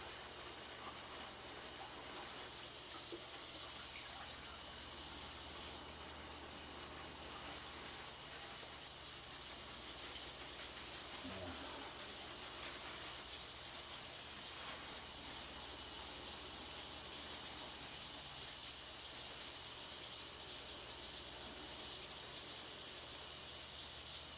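Running water rinsing out a slimy potato bag, a steady continuous rushing and splashing stream heard close throughout with no pauses and no voices.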